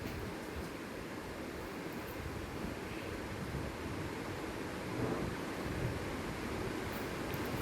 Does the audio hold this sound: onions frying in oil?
yes